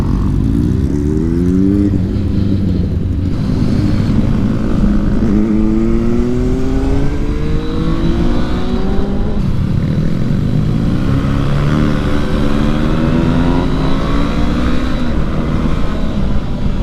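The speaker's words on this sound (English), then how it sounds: "this guy in this dually's hauling it, ripping it" Dually pickup truck speeding hard along the road beside motorcycles, with a loud, continuous engine drone and wind roar and rising and falling revs throughout.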